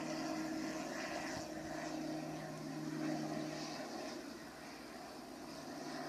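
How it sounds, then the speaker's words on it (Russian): A small propeller plane coming in to land drones overhead at a distance, its faint steady hum slowly fading as it passes. "Самолет на посадку идет. Что-то маленький совсем."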